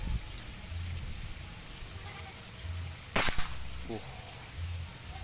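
A single sharp crack of a folding tactical 500cc PCP air rifle shot at a target rings out once against a quiet outdoor background, with faint animal bleats nearby.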